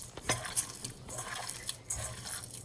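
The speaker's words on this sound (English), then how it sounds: "We're just gonna mix it." Burger patty mixture with egg yolks, Worcestershire and soy sauce being mixed in a bowl, short wet squishing and clinking of utensil against the bowl in a couple of close bursts.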